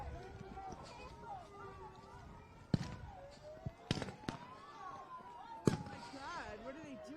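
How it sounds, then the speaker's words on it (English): Flashbang munitions fired at protesters during a street clash pop as several sharp, distant bangs over a low background hum, with people talking in between. "We have munitions fired. Flashbangs based on the sound."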